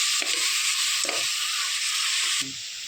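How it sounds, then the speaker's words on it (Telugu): Mutton with salt and mutton masala being stirred in a hot pan, a loud continuous sizzle broken by a few scraping spoon strokes, the frying dropping slightly near the end. "మటన్ మసాలా వేసి అన్నింటినీ బాగా కలుపుకోవాలి"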